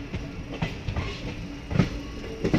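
A train rolls through a railway junction on the way from Palakollu toward Hyderabad, with a steady rumble and irregular clacks and thumps of wheels over the points, heard loud and close from inside.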